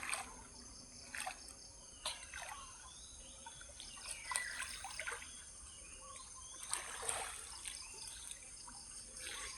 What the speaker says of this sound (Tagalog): Ayan po, ilog nila.